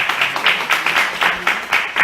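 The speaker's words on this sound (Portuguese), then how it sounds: "Vamos também bater uma salva de palmas." A church congregation gives a round of applause during a service: dense, continuous clapping from many hands, loud and close, with rhythmic surges through the whole two seconds.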